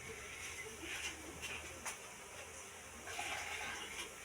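Water pours steadily into a pan of fish curry in a continuous gushing stream, fairly close and moderately loud, with faint splashes along the way.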